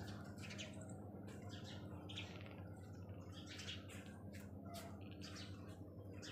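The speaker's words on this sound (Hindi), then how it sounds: "और चिड़िया भी कैसे चहचहाने लग रही हैं" Birds chirping outdoors on a sunny day: repeated bright, squawky calls and tweets in irregular bursts, moderately near, over a steady low hum of background noise.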